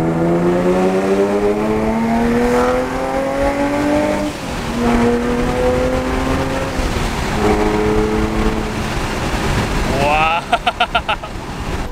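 A supercharged Nissan 370Z Nismo exhaust drones loudly at steady revs. Its pitch sweeps up and down with throttle changes, and a burst of sharp pops comes near the end, all under continuous talk.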